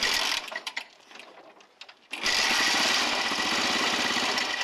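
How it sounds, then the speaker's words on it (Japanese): An engine fires up after a few sputters and a brief lull, then holds a loud, steady high rev that drones on without letting up. "エンジンをかけてみろ"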